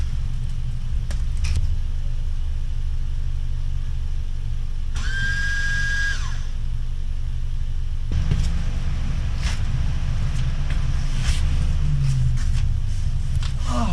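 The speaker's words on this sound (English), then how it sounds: "My girlfriend just pulled up in her car." A car rumbles low and steady nearby with its engine idling, with a brief whining tone partway through and a heavier surge of engine noise toward the end, in an outdoor driveway setting.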